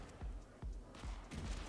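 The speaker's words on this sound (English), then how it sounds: "Oh, the bouncing bullets." Gunfire and ricocheting bullets in a shotgun action video game, a quick series of four or five punchy low-pitched shots at a fairly even pace, played fairly quietly.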